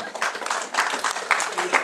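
A church congregation claps for a woman during a Pentecostal worship service, a broad burst of applause with a few louder pops, fairly close and steady throughout.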